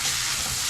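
Small pieces of chicken escalope frying in a hot pan, a dense steady close-up sizzle for under a second.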